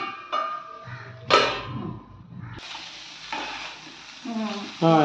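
Chicken pieces frying in butter in a pan, sizzling steadily while being stirred, with scraping bursts and brief clanks of the utensil against the pan, close and fairly loud.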